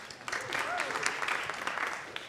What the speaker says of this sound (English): that we would like to give an extra round of applause